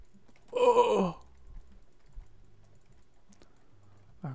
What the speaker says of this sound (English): I'll keep clicking when I know I could hold it down